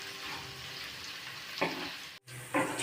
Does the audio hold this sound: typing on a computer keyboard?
no